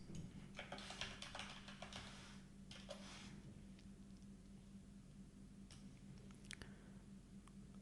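Faint, quiet keystrokes on a computer keyboard as the adb devices command is typed into a terminal on OS X, a short cluster of taps over a steady low hum.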